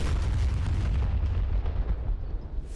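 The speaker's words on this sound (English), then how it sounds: "Silkworm search radar is destroyed." Deep, rumbling explosion of a destroyed Silkworm search radar in a combat flight video game, a loud sustained low boom and crackle filling the short moment with no talk.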